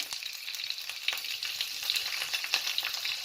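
Mustard seeds and urad dal fry in hot tempering oil with a steady close sizzle and scattered crackling pops, alone with no voices.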